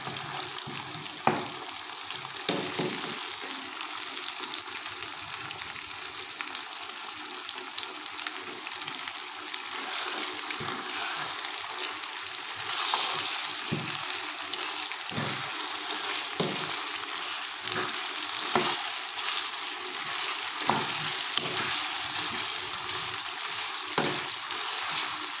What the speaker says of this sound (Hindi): इसको हम अच्छी तरह से फ्राई कर लेते हैं। तकरीबन 2 से 3 मिनट इसको फ्राई करते हैं।